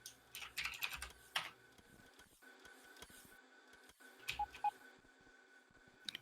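A computer keyboard clatters quietly in bursts of quick key taps, with a few isolated electronic beeps in between, while stations are renamed in a Factorio game. The sound is close but faint, with pauses between flurries.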